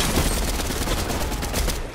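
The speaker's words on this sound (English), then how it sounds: "Who the fuck keeps shooting?" Sustained, dense gunfire from many weapons in an online multiplayer video game, loud, near and continuous throughout with no pauses.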